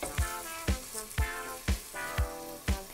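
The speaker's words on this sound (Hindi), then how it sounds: "5 से 6 प्याज के टुकड़े किए हैं जिसे मैं ऑयल में डाल देती हूँ" Onion pieces frying in hot oil crackle and sizzle close up, with about six sharp pops or taps at a regular half-second pace over a constant hiss.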